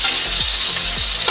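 Ground tomato paste with whole green chillies fries in oil in a pan, giving a steady, close sizzle and hiss throughout with faint stirring scrapes.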